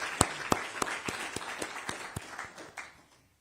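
A small group at a New Jersey commemoration event claps in a sparse, uneven round, distinct individual claps spaced apart, fading out to silence.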